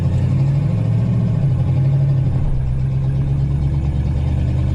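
An older car with a column-shifted automatic is put into drive and pulls away, its engine droning loud and close, rising slightly then settling into a steady run with no talking.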